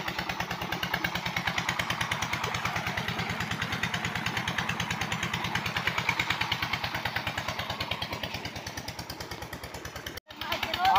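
A diesel pump engine chugs steadily in a fast, even thump, close and loud, then cuts briefly near the end before restarting.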